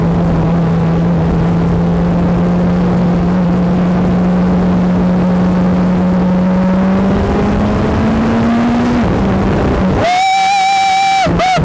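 BAC Mono street-legal race car engine at full tilt, a loud, harsh drone rising steadily in pitch as it accelerates, then a sharp gear change into a higher, piercing wail near the end, close and overwhelming.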